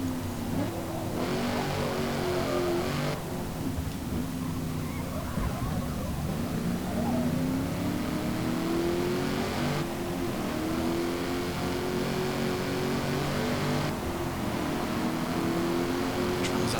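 A classic Colt racing car engine in the video game Forza Motorsport drones and revs continuously around an oval track, its pitch rising and falling as it accelerates through gears, with no speech.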